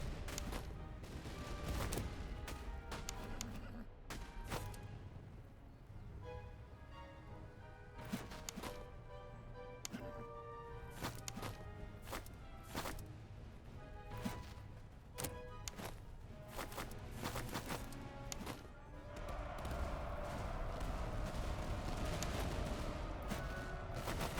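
Troops in the video game Master of Command, a French light corps, fire continuous musket volleys: dense, overlapping cracks and pops roll on for over twenty seconds with no talk, thickening into a steady din near the end.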